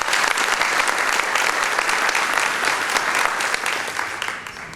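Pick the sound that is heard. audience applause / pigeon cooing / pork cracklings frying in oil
audience applause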